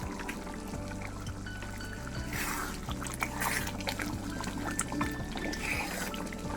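Ghee goes into a simmering paneer curry with a soft pour and trickle over a constant low hum from the stove, and faint bubbling and stirring can be heard close up.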